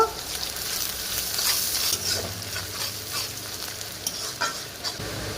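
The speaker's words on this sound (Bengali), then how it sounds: "পেঁয়াজ কুচি দিয়ে একটু নেড়ে নেব" Chopped onion stirred and fried in a little oil for a bitter gourd and fish chorchori, a steady close sizzle with scraping stir strokes throughout, no talk.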